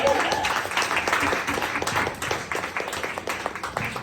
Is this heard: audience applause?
yes